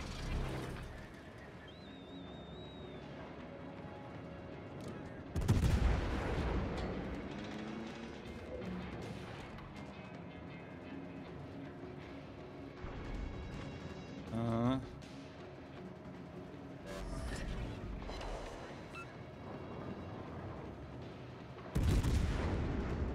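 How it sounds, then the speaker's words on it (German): Battleship Roma firing its main guns in World of Warships, a few loud booming salvos spaced apart among quieter game rumble, with someone talking in between. "Ich wusste, dass die Roma schießen wird."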